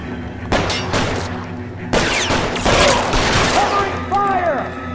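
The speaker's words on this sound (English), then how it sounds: "Covering fire!" Bursts of gunfire crackle in L.A. Noire, rapid volleys of shots clustered together and echoing, with shouted voices mixed in among the loud exchange.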